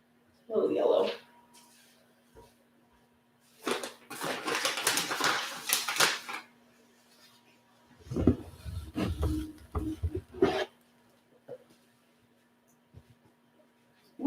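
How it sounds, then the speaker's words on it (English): A pet dog named Callie barks in short bursts indoors, close by, around a crested gecko breeding room with bins. The barks come in several loud clusters with quieter gaps, and people talk between them. "Callie, stop barking at me"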